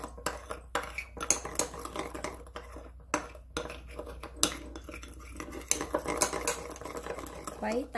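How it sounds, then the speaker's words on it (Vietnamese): Cornstarch and seasoning powder are stirred with water to dissolve them. A spoon clinks and scrapes rapidly and repeatedly against a bowl, close and fairly quiet, in a busy, uneven rhythm. "Quấy tan."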